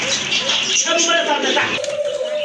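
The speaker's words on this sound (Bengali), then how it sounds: "আরেক জোড়া কবুতর অনেক বড় সাইজের কবুতর ব্ল্যাক কালারের" Large black pigeons of the Pakistani golla breed coo at a market stall, soft throaty calls close by amid steady background chatter of people talking.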